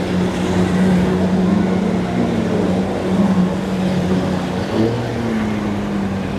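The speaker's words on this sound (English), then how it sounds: "Got some charter boats coming back in." Charter boats motor back in from an afternoon trip near Crab Island, a steady low engine drone holding throughout at close to moderate range over faint water and wind wash.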